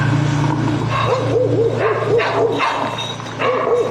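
Dogs bark and yip repeatedly at a campground, a run of sharp close barks over a steady low background hum.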